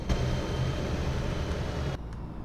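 A steady, low engine drone from a MAN Lion's City bus in the simulator OMSI 2, with a faint automatic gearbox whine, runs evenly for about two seconds, then cuts off abruptly.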